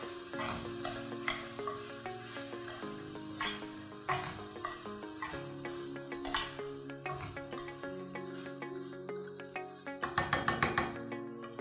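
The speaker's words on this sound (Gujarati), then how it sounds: "એને આપણે પ્રોપર મિક્સ કરી દઈશું" Sprouted beans for misal are stirred in a sizzling pan, with a spoon scraping and clinking in a steady rhythm over constant frying hiss, close up, ending in a quick burst of rapid metallic taps.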